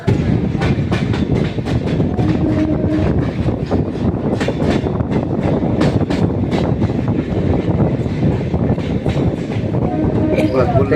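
A Kolkata local train runs between Lake Gardens and Tollygunge, its loud onboard rumble carrying a steady clickety-clack of wheels over rail joints, with rattling carriages and wind noise at a constant level.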